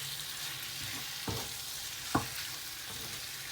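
Pork with herbs, spices and salt being mixed in a pan for a vindaloo, with a low steady sizzle and two or three soft scraping stirs, fairly quiet and close, no voices.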